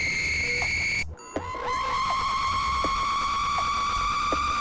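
A distorted scream synth note built in a sampler is struck after a brief steady tone, then rings as a harsh, buzzy sustained pitch with bright overtones and small glitchy blips, loud and without any talking.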